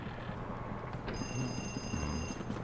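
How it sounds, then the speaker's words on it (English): A telephone in the Luigi's Mansion video game rings with an electronic bell tone. It starts about a second in and continues steadily over low background game ambience, with no voices. "Yes, the phone is ringing."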